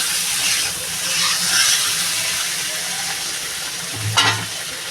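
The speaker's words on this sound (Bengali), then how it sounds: "একটু ভালো করে কষা করব" Spices and chopped chilli sautéing in a pan, a continuous bright hiss and sizzle with occasional scraping stirs and a brief clatter near the end, close and steady.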